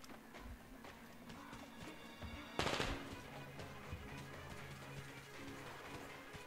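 Gunfire in the video game Metro Exodus: one sharp, loud shot or short burst cracks out midway over a faint, busy background of distant clatter and rumble.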